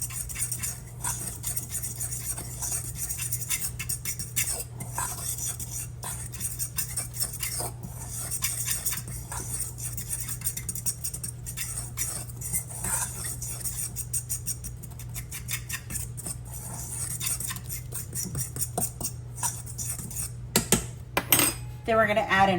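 A utensil scraping and clinking against a bowl while mixing keto chow powder into a dry biscuit mix, a steady busy stirring clatter that goes on at close range, with sharper knocks near the end.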